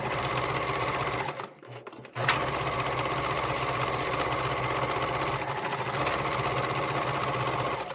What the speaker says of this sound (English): So now I'm going to sew this.